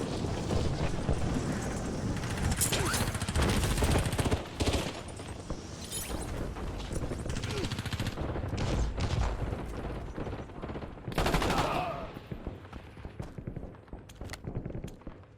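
Dense gunfire in a video game: continuous rattling bursts and shots, some near and loud, others farther off, with a heavy blast partway through. No voices are audible.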